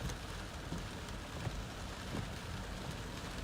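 Steady rain pours during a severe storm as a tornado approaches in Chesterfield, Missouri, a dense continuous wash of drops with faint low rumbles underneath, no voices.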